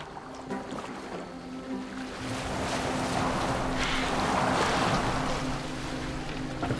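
A boat sails on open water in Assassin's Creed Valhalla, with a continuous wash of waves against the hull and wind gusts that swell louder midway, steady and without speech.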